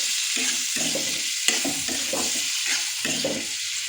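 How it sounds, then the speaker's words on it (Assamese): Silkworm pupae fry in a pan over a high flame, a loud, close, steady sizzle broken by repeated rhythmic scraping as they are stirred, with one sharp clink partway through. "এতিয়া ভাজি থাকিম"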